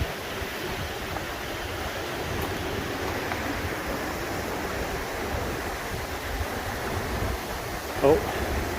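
Steady broadband rush of a waterfall along a cliffside hiking trail at South Deuel Creek, continuous and fairly close, with a brief sharper splash or knock near the end.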